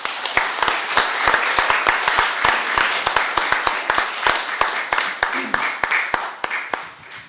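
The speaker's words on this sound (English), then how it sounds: "they deserve a thunderous round of applause for their work" An audience applauds steadily at an Essex County Commissioners meeting, with a dense, sustained wash of clapping in the room and sharp, regular individual claps standing out throughout.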